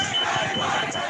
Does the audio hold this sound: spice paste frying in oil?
no